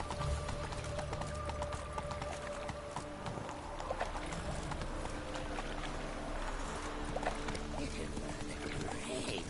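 Horse hooves clop at a steady gallop in The Witcher 3, continuous and fairly close, mixed with busy game ambience and background music.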